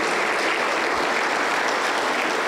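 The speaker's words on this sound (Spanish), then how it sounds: "Aplauso para el Señor Jesús" A church congregation applauding during a sermon, a dense, steady wash of clapping throughout.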